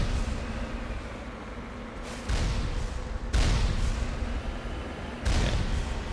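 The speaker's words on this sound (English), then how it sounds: "Those are definitely rockets." Rockets launching and exploding in the video game Mass Effect: three heavy booming blasts roughly a second apart, set against a constant loud rumble of battle noise, with no voices.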